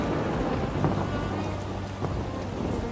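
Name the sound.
heavy rain and thunder in a cartoon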